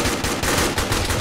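Rapid bursts of automatic gunfire rattle close and loud as a bunker is cleared in the military video game Arma, continuous cracking shots with no talking.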